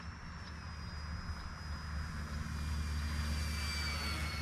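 A small RC Corsair model airplane flies at half throttle with a steady, whining electric motor and propeller buzz that holds a thin high tone, nearby and growing slightly louder over a low rumbling background.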